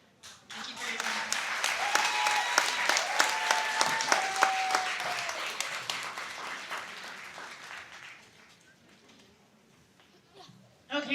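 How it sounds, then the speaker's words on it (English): Audience at a neighborhood housing community meeting breaks into a burst of applause, dense clapping building quickly, holding for several seconds, then fading to quiet before a voice returns. "can we get one more round of applause for Sabella and Kate?"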